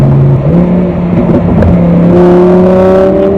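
A 2020 Lamborghini Huracan Evo engine pulls steadily while driving, a loud continuous drone that rises in pitch as the car accelerates, with no talk over it.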